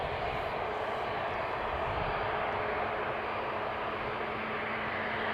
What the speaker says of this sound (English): This is flight 461 to Reykjavik. It's an A320 Neo